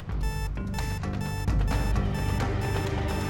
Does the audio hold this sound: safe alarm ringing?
yes